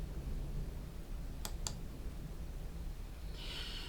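A computer mouse clicks twice in quick succession on an OK button, short and crisp against a steady background hiss.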